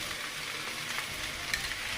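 Chowmein with fried egg, turmeric and tomato sauce fries in a pan, producing a steady, even hiss of sizzling oil at moderate volume with a faint tap near the end.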